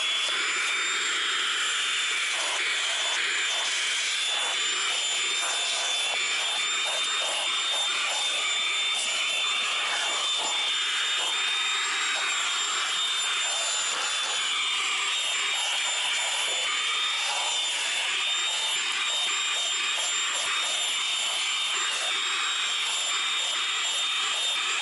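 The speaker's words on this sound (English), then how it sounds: "We're going to put the crevice tool on it, see if I could get some of those little recessed areas" Cordless vacuum with a crevice tool cleaning a car's interior, a loud steady motor whine with high tonal hum, lasting throughout with slight pulsing as the nozzle moves, no speech.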